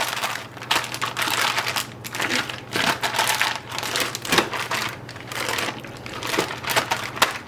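A plastic bag of marinating chicken is tossed and massaged by hand, giving steady crinkling and crushing plastic noise with rhythmic squeezing bursts, close and continuous, with no talking.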